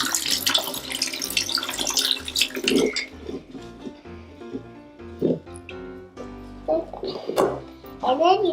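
Tap water running into a sink to rinse rice, a steady splashing stream that stops partway, followed by sloshing and clinks while a person talks.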